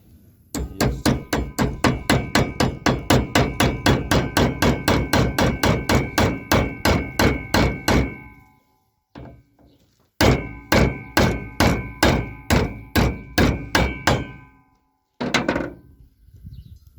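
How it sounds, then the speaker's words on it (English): Rapid, steady hammer blows ring out against a metal universal joint, dozens of sharp strikes in a fast rhythm, pausing briefly before a second quick burst of hits. "You come in here, put your hammer again, holding it up."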